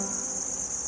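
Crickets chirping in a steady high-pitched drone, constant and moderately faint, with no other sounds or voices.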